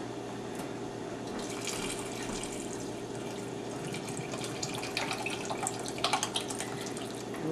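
Broth pours into a soup pot of leeks for potato leek soup, a steady liquid splashing and trickling stream that grows a little louder and more gurgling toward the end. No voices are heard.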